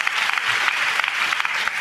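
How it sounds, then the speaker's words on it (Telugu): A church congregation claps hands together in loud, dense, steady applause that fills the space without a break. "చప్పట్లు కొడుతూ స్తోత్రాలు చెప్దాం"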